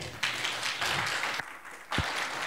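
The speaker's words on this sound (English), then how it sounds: "give him a round of applause for me" A church congregation gives a thin, half-hearted round of applause, broadband clapping that swells and dips over a couple of seconds with a thump near the end.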